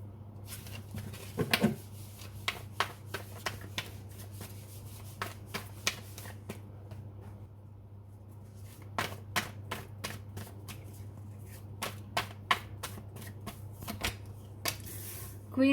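Tarot cards being handled and laid out in a reading, a steady run of soft card snaps and slides with a low constant hum beneath and brief talk.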